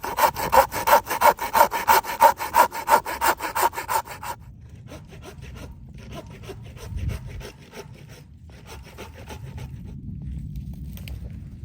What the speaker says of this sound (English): I'll see how this pruning saw works